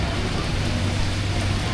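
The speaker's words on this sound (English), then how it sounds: "I've been sitting here for about 15, 20 minutes already and it's still raining" Steady rain falling on a street in Bogota, a dense even hiss with a low hum underneath, continuous and close throughout the short stretch.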